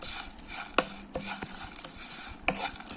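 Onion and chilli being stirred in a frying pan for a dried shrimp theeyal, with a soft steady sizzle under a few sharp scrapes and clinks of a spoon against the pan.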